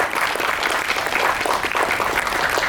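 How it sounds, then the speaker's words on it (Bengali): An audience claps loudly and steadily at a yoga teachers' training convocation, a dense, even wash of applause that carries on throughout without pause. "জোরে হাততালি হয়ে যাক আমাদের সবার পক্ষ থেকে"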